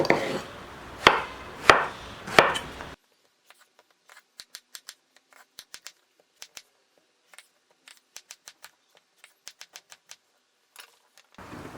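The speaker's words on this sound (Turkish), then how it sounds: "Patlıcanları çok ufak doğramıyorum." Knife chopping eggplants on a cutting board, first three loud, heavy chops up close, then a long run of quick, light, crisp taps as the pieces are cut in irregular rhythm, ending with another firmer cut.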